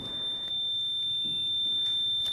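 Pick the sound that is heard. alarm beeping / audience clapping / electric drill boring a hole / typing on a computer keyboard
alarm beeping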